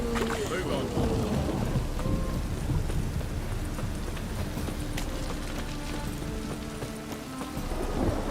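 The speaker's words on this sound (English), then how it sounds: "A storm, damn it." A storm in the video game The Witcher 3 brings a dense, continuous wash of heavy rain with rumbling thunder, filling the scene steadily at fairly close range.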